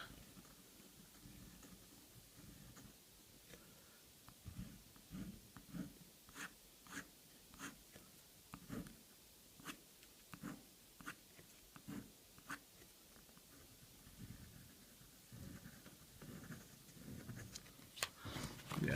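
A Hero 616 fountain pen scratches across paper in short, irregular strokes, the light nib taps and scrapes close up and fairly quiet, with pauses between bursts.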